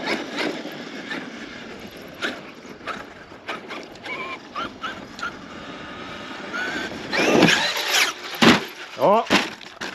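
A Traxxas X-Maxx 8S RC truck on Louise Cyclone tires revs its electric motor in short throttle bursts, with a whine that rises and falls sharply. Rattling and bumping from the truck come through, and people talk over it.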